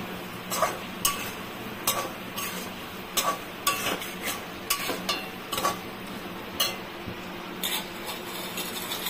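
Curry of pointed gourd (potol) in a yogurt-based gravy is stirred in a pan, with a spoon scraping and knocking the metal in an irregular rhythm of sharp clinks over a steady soft sizzle, close and alone without voices.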